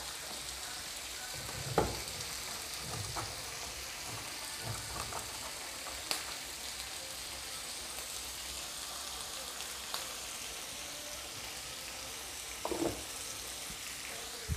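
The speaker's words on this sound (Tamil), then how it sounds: "நல்லா வதக்கிக்கலாம்" Ingredients sizzle and fry in a pan as they are sautéed and stirred, a steady close crackling hiss with occasional scrapes of a spoon against the pan, no voices.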